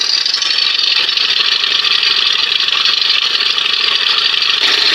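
Steady, continuous mechanical chattering from a spring inside a 1997 Johnson 115 OceanRunner outboard motor, a dense rattling hum that holds at the same level throughout with no voices.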